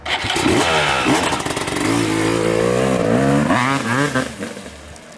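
A 2022 Yamaha YZ 250X two-stroke dirt bike with electric start and a Rekluse auto clutch, revving loudly and close, its pitch climbing and falling through several sweeps.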